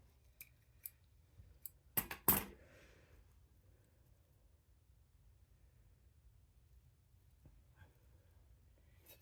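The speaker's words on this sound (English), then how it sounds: "Go ahead and snip those off." Scissors snip through prickly pine stems for a Christmas centerpiece: a few light clicks followed by two loud, sharp cuts close by, then quiet rustling and a faint click near the end.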